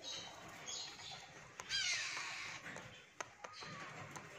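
A talking hill myna lets out a harsh, crow-like squawk followed by a few scattered clicks and short calls, fairly close over a steady, hissy background.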